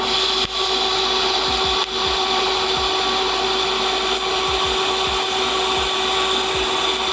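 Fusion tacking on metal with a welder, a loud steady electrical hum and hiss running throughout, with a handful of short clicks and pops marking individual tacks, no talk.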